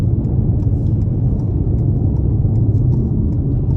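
A 2022 Toyota C-HR XLE accelerates on a test drive, its engine giving a steady low rumble and whir heard from inside the cabin, with no one speaking.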